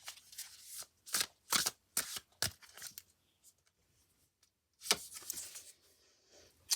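Tarot cards shuffled and drawn by hand: a series of sharp, papery riffles and slaps in irregular bursts, close up, with quiet gaps between and no talking.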